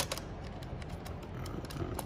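Faint light metallic ticking and clicking from a tool unscrewing T20 bolts that hold the paddle shifters on a McLaren 720S steering wheel, close and quiet with no talking.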